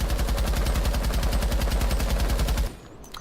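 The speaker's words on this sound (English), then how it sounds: "First I'm going to be just shooting this wall and not controlling the recoil at all" Capitao's automatic weapon in Rainbow Six Siege fires at a wall in one long, continuous full-auto burst. The shots come loud and evenly spaced at a rapid rate, then cut off abruptly, leaving a short, quiet tail with no talking.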